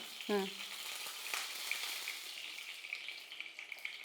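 Cooking oil poured into a hot pan while making bisi bele bath, giving a faint, steady hiss and sizzle that continues evenly after a short tonal blip at the start.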